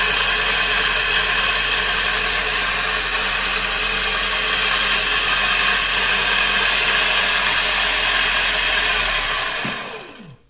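Hand-built mechanical charger motor spinning up with no load, a steady whirring hum with a high-pitched whine, loud and continuous for about ten seconds before cutting off and winding down at the end.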